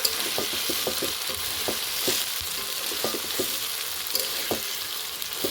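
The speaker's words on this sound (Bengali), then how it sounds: "এখন এই যে মশলার সাথে কষানো হয়ে গেছে আলুটা" Potatoes and ground spice paste sauté in hot oil in a pan for chickpea ghugni, giving a steady close sizzle broken by frequent sharp scrapes and taps of a spatula stirring, with no talking.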